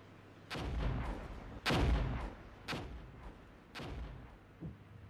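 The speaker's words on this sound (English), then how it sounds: "Artillery rounds landing." Artillery rounds land in the Armored Brigade war game, four heavy booming impacts spaced about a second apart, each with a rumbling decay, at moderate volume.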